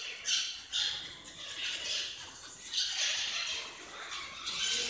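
Birds squawk inside the owl cave at Tingo María, giving harsh, shrill, overlapping cries in repeated bursts that echo close by for several seconds, with no talking.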